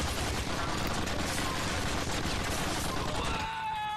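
Rapid continuous gunfire in the GTA 4 The Ballad of Gay Tony video game, a dense, fairly quiet rattling volley of shots that runs steadily for about three seconds before cutting off.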